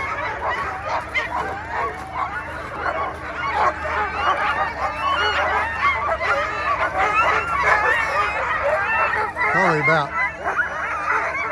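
Sled dogs at the Willow 300 race start yelp, bark and howl excitedly in a dense, overlapping chorus from a crowd of teams, while a person speaks briefly over the noise.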